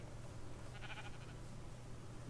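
Sheep bleating in the Minecraft video game, a brief cluster of bleats midway through over a steady low hum, faint and somewhat distant, with no talking.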